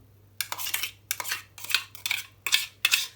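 A utensil stirs ground mango paste into lassi in a bowl, making five separate bursts of scraping and clinking at a steady rhythm, each lasting about half a second, close and moderately loud, with no talking.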